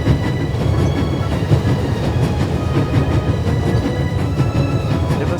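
Old-fashioned steam train with a coal car rumbling along in a video game, a steady loud rolling clatter of wheels on rails.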